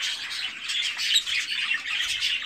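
Japanese finches calling nearby, a busy overlapping stream of short squeaky chirps and squawks from several birds without pause.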